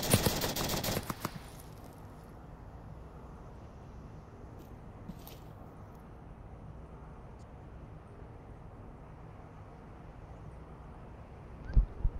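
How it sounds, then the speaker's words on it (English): Gunfire in a tactical shooter match, fired from a dark room of a canopy building: a dense rapid burst of shots at the start, then quiet ambience with a few faint scattered pops and a final sharp report. "Shots fired all the way from the dark room of that canopy building"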